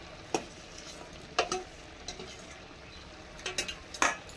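Fried potatoes being tipped into a pan of gourd and shrimp curry and stirred, giving a few soft scrapes and light clatters of a spoon against the pan, quiet and spaced out with a faint background hiss.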